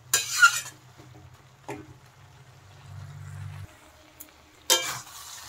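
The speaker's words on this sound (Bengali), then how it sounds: "চিনিটা দেওয়ার পরে একটু নেড়ে দিচ্ছি।" Water spinach and sugar being stirred in a pan, with soft scraping of a utensil and a few sharper clatters at the start and end; quiet and close, no talking.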